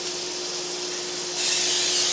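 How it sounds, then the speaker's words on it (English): Butter spray hisses from a can onto raw chicken being readied for roasting in a Dutch oven: a steady, close spray that grows louder and brighter partway through, with no talking. "You want to get the chicken sprayed down good."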